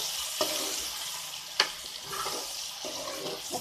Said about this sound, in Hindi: और अब इसको अच्छे से मिक्स करते हैं।